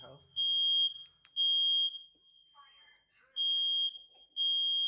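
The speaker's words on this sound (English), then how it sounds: "Sorry, the fire alarm has just gone off in my house." A household smoke alarm sounds in loud, steady high-pitched beeps repeating in long pulses, with a short stretch of muffled talk between them.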